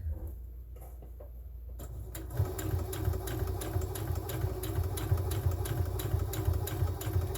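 Sewing machine stitching fabric party bunting with a small seam allowance, starting after a quiet moment and then running steadily as a close, rapid mechanical whir with a regular needle clatter.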